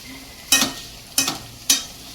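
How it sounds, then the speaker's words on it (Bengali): Bitter gourd frying in a pan: three short, separate bursts of crackling sizzle about half a second apart, like the slices being stirred or tossed, with quiet between. "তা এখন করছি উচ্ছে ভাজা আর সর্ষে বাটা দিয়ে কাতলা মাছের ঝাল"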